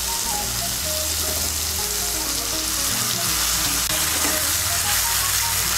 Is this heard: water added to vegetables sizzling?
yes